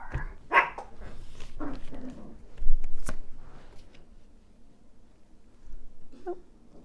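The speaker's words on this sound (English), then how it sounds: "Hopefully the dogs will be quiet today." Several short, sharp dog yips and whines come in scattered bursts against a quiet room, close and fairly loud, with gaps of near silence between them.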